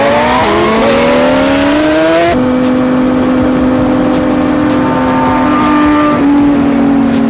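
Sport bikes on a group ride, including a Kawasaki 636, rev hard at full throttle, loud and close, with engine pitch climbing then holding a sustained high whine over about seven seconds.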